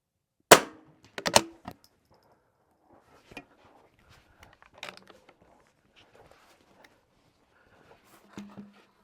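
Rifle shots ring out during an NRL22 rimfire match course fired from a wobbly tire-stack prop: a sharp crack followed by a second, then quieter bolt clicks and handling noises across an otherwise quiet range.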